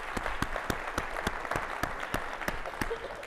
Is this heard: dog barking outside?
no